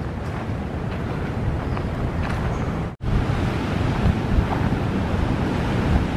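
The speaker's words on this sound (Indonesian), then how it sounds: "ini ombaknya agak kencang kalau di sini" Strong ocean waves roll onto a beach with steady roaring surf and wind buffeting the microphone, loud and close, with a brief dropout midway.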